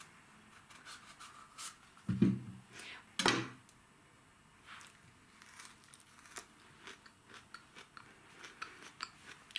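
Crunchy raw Acorn pumpkin flesh being bitten and chewed, with two loud crisp crunches close to the mic followed by quieter, scattered chewing and clicking sounds.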